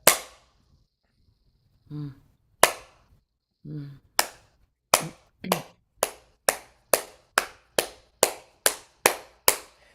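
Sharp clap-like pops from vocal cords snapping shut in a compression exercise, starting sparse after two soft hums and then settling into a quick, regular series of about a dozen crisp, evenly spaced clicks.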